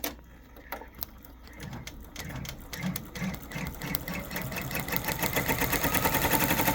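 An embroidery machine stitches a design onto a towel, its needle hammering in a fast, even mechanical chatter that starts soft and grows louder and denser over the clip, with no one talking.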